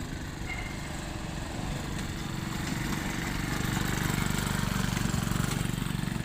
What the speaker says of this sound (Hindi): ये ट्रॉली में अप्रॉक्स 200 किलो वेट डाल के ये ऐसे कच्चे रास्ते में चला के टेस्टिंग लिया जाता है